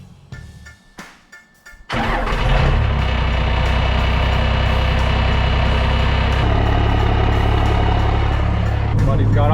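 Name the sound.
cold start of an old diesel truck engine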